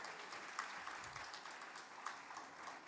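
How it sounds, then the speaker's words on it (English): Steady applause from an audience at a literary festival awards ceremony, honouring the third prize winner; dense, even clapping holds at a moderate level throughout. "A big round of applause."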